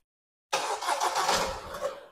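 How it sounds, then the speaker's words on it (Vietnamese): After a brief silence, a 2022 Kia Sportage engine cranks by remote start and catches, settling into a steady idle with a slight rev, nearby and moderately loud. "Rồi anh em nghe nó nổ máy rồi ha."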